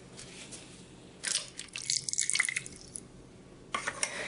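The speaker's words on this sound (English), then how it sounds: "And 2 tablespoons of water." Water is poured into a mixing bowl of vegetable oil and molasses for gingerbread dough, heard as a few short, faint splashy bursts against a quiet room with no talking.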